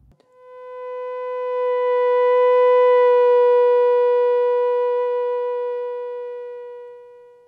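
A theremin plays one sustained, pure singing tone that swells in from silence, holds steady for several seconds and slowly fades, heard alone.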